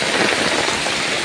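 Heavy rain pours steadily over a countryside village in Cirebon, a dense, continuous hiss of drops drumming on surfaces, close and unbroken with no voices.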